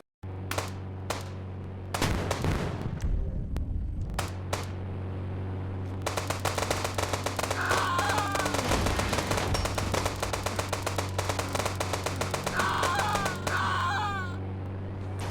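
Bursts of AK-47 and sniper gunfire in the Indian Bikes Driving 3D video game: a few separate shots at first, then rapid, sustained automatic fire rattling loudly for several seconds over a steady game hum.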